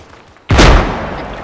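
A rocket launcher fires at a Scorpion tank in a military video game, a single loud, sudden blast that booms and then rumbles away slowly over the following second, with no talking.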